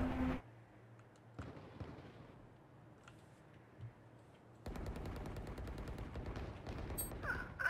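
Gunfire in the shooter game Valorant, bursts of rapid shots starting partway through and continuing to the end, fairly close, with quieter game ambience before the shooting begins.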